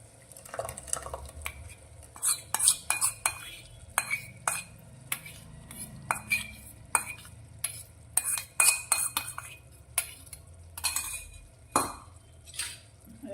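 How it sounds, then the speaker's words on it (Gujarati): Masala paste being stirred into green cowpea vegetables in a pan, with repeated spoon clinks and scrapes against the metal over a quiet low rumble, close and fairly soft. "મસાલાને આપણે સારી રીતે શાકમાં મિક્સ કરી અને 1 મિનિટ માટે સારી રીતે સાંતળીશું."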